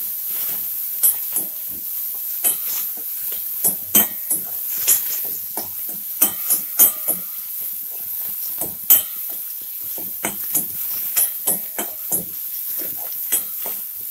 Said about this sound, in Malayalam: ഉപ്പിട്ട് ഇളക്കി തക്കാളി ചെറുതായിട്ടുണ്ട് വരും.